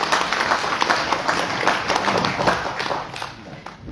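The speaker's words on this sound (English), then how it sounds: "Round of applause." Audience applause at the Christchurch Central candidates debate in September 2025: a steady, dense wash of clapping from a hall crowd holding at an even level for the full stretch, without any clear speech over it.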